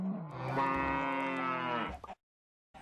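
A single long, drawn-out cow moo from Minecraft with the DartCraft mod, loud and close, trailing off into silence before a brief sound resumes.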